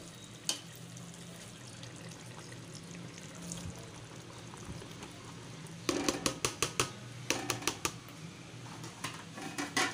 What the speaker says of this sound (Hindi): मैं इसमें चने की दाल डालूँगी